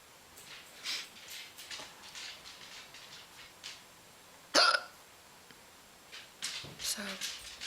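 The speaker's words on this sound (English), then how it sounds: "I finally got the hiccups" A person hiccups once, a sharp sudden catch of breath, amid soft breathy noises and background hiss, with some faint vocal sounds around it.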